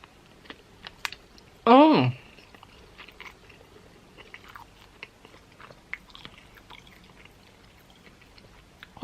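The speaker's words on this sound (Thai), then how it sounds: "กัดตรงหัวมันเบาๆอะ่ะ" A firm-fleshed British sausage is bitten and chewed up close, with soft, irregular wet clicks and squishes throughout and one brief hummed voice sound of enjoyment.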